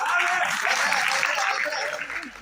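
An audience claps together in a Magahi entertainment show, a dense, steady wash of hand claps lasting a couple of seconds that fades slightly at the end, with faint voices mixed in.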